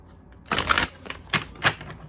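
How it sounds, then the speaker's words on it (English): Tarot cards being shuffled by hand close up, three short papery riffling bursts with pauses between them, no talk. "I'm shuffling the cards in front of your face."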